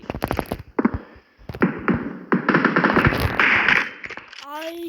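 Sniper rifle shots and rapid bursts of gunfire from PUBG Mobile crack in quick succession, loud and close, while someone talks excitedly over the shooting.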